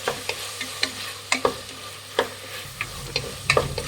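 Carrots and onions stir-fried in oil for vegetable biryani: a continuous sizzle punctuated by regular scraping clicks of a spatula against the pan, fairly close and clear.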